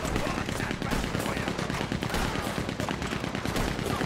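A Gatling gun fires in Red Dead Redemption 2, a dense, loud, continuous rattle of rapid shots running the whole time with no pauses.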